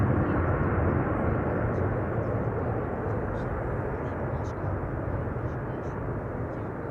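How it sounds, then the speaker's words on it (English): An Airbus A350 is pushed back at Amsterdam Schiphol Airport, with a dense, steady roar of jet engines and broad airport noise that fills the whole clip, loud and constant with only slight easing toward the end. "That's the A350 getting pushed back."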